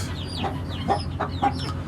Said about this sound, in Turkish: Goldfonix Yokohama ya benzeyen horozumuz.